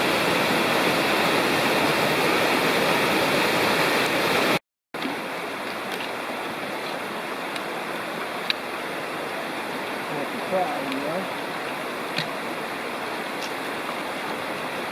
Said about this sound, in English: above the Prior Falls is this nice falls